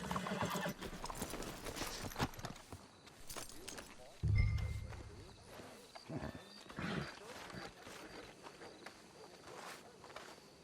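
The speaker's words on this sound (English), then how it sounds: "Let's hitch the horses up ahead." Horses trot with rapid clip-clopping hoofbeats and a sharp neigh in the Western video game Red Dead Redemption 2, moderately close, mixed with game ambience and faint speech.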